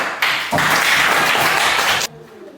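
A class of primary school pupils applauds in an elementary school classroom, a brief burst of loud, close clapping that stops abruptly after about two seconds.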